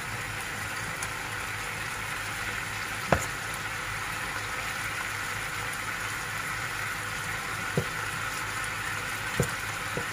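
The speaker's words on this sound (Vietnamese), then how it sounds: "bây giờ chúng bắt đầu chiên gà" Chicken frying in hot oil for a chicken and bean dish, a steady crackling sizzle with a few sharp pops and clinks standing out now and then.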